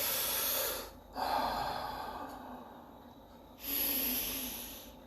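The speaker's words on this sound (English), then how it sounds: "Take a few deep breaths." Slow, deep breathing during a guided relaxation exercise, with two long airy inhales or exhales heard close and soft, a quieter pause between them and no speech.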